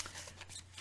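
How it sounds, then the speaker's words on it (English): A deck of cards being shuffled, a soft continuous riffling rustle lasting under a second, faint and close over a steady low hum, with no voices. "Glenn, as I'm shuffling, a card just popped out"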